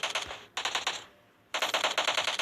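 Automatic AK rifle fire in a video game comes in two quick rattling bursts split by a short gap, sharp and close though fairly quiet overall.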